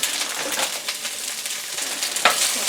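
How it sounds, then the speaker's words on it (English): Chunks of onion stir-fried in a pan for mushroom soup, a close, steady sizzle with scattered scraping and stirring clatter throughout, no voices. "Stir them around, kind of like a stir fry to get started."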